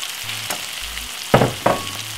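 Saltfish tipped into a pan of vegetables already frying, giving a continuous sizzle broken by two sharp bursts of crackling as the fish lands and gets stirred, close and alone.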